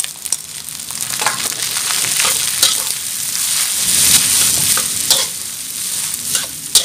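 Rice coated in beaten egg is stir-fried in a hot pan for red-sauce Thai train fried rice, with a steady sizzle and repeated scraping strokes of a spatula.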